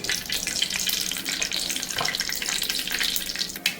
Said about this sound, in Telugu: ఆయిల్ బాగా వేగాక ఆవాలు కొద్దిగా వేసుకోవాలి.